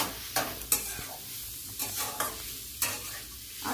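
Grated carrots are stirred in ghee in a pan for carrot halwa, producing a soft sizzle under several sharp, close spatula scrapes at an uneven pace.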